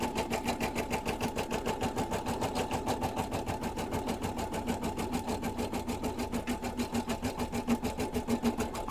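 A home embroidery machine runs at reduced speed stitching a placement die line on fabric for a gnome hat, its rapid, steady needle clatter repeating evenly and close throughout.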